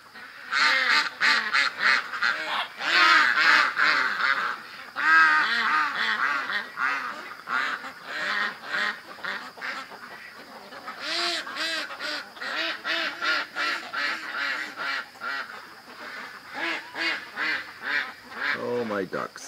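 A flock of ducks and geese in a pen on a windy day, loud and near, quacking and honking almost without pause, with a person speaking now and then between the calls.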